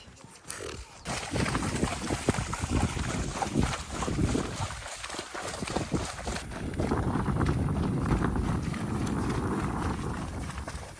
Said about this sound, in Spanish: La alemana andando en un caballo en el llano.